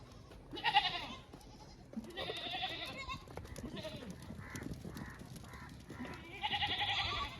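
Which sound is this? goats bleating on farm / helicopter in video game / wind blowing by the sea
goats bleating on farm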